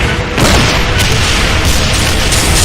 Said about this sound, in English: It can fire legendary rockets.